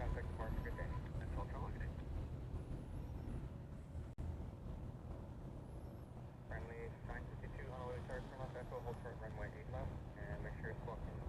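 A Jetstar jet airliner at Honolulu airport rumbles low and distant, a continuous background roar under people talking.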